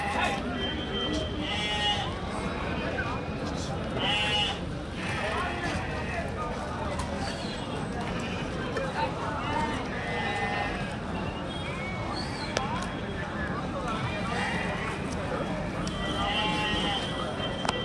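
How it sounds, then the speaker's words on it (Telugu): Goats bleat repeatedly at a busy Tuesday livestock market, several overlapping calls near and far amid crowd noise, with people talking throughout. "ఇక్కడ మేకలు ఉన్నాయి."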